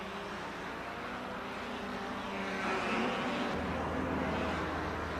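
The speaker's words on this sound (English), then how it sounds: "They stream along the back straight behind the pits, with some late braking into the north curve coming up." 1957 Formula 1 race cars, led by Lancia Ferraris, stream along the back straight behind the pits at the German Grand Prix. A steady, somewhat distant engine roar swells midway, with a rough, noisy broadband texture.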